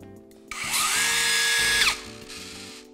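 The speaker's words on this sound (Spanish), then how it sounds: "El motor es un motor de inducción que es muy suave a la hora de arrancar y que nos da mucha potencia." A cordless circular saw with an induction motor spins up smoothly from rest, whines steadily at high speed, then brakes sharply to a quick stop. It is close and loud, with no talking.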